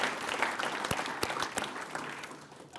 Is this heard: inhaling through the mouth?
no